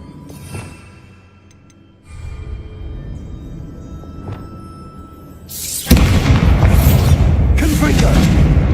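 Bombarda explosion spell cast in the video game Hogwarts Legacy: quieter game sounds and thuds give way to a sudden loud, booming blast that keeps rumbling to the end.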